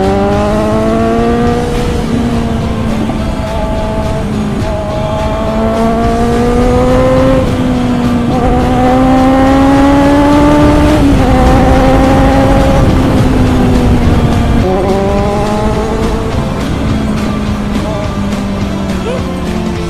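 A motorcycle engine accelerates hard on the Panay Loop road, its loud close drone climbing in pitch through repeated gear shifts, each rise dropping back and building again over twenty seconds.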